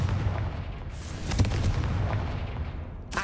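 A Confringo spell blast in the Hogwarts Legacy video game lands as a sharp, booming impact amid a dense rumbling background, followed by a second crack at the very end.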